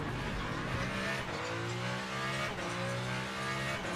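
Hypercar engine in the Le Mans Ultimate racing game drones at high revs, holding a steady, fairly quiet whine that shifts pitch slightly as the lap goes on.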